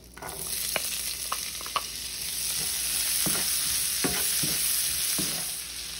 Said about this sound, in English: I put about 1 tablespoon more of butter, and I'm just gonna start going in with my peppers.